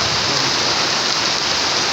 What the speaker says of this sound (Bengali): অজোর দ্বারায় বৃষ্টি ঝরছে